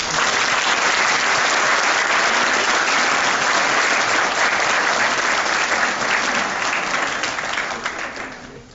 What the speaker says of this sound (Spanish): Vamos pues a recibir al doctor Álvarez con un aplauso y agradecimiento.